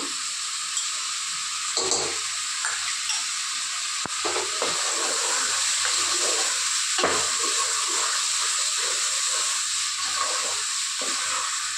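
Mutton and brinjal curry frying in a pan, a steady close sizzle and hiss running throughout with intermittent scraping stirs and faint clinks, no voices.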